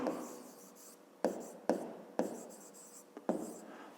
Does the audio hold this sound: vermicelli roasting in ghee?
no